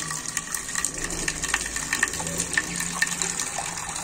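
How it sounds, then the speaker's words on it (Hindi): Water poured into a bowl for pet pigeons, diamond doves and zebra finches in a backyard cage, a steady gushing splash that runs throughout, with bird chirps and faint background noise around it. "इनको डालते हैं पानी, पहले इनका बर्तन साफ कर दें।"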